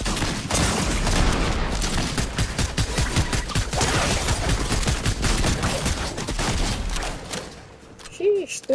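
Dense rapid gunfire crackles in the Fortnite video game during a capture-the-flag match, a continuous loud fusillade of shots that fades near the end, with a voice faintly present.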